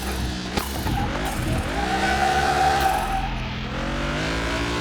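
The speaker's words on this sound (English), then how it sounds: "It has a rear-wheel drive car with a shit ton of power." A powerful rear-wheel drive car in Car Mechanic Simulator 2021 revs loudly and skids, its engine climbing and sliding in pitch with tire noise underneath, close and continuous.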